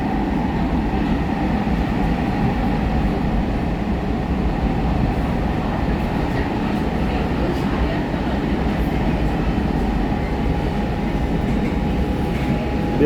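Steady, loud rumble of a Kolkata metro train running on the Behala to Joka line, continuous low-frequency roar with faint wheel clatter throughout, no voices.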